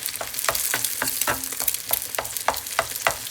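Eggs fry in a separate pan for stir-fry noodles, giving a continuous close sizzle with rhythmic scraping strokes at steady intervals and no talk.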